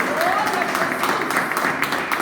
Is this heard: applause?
yes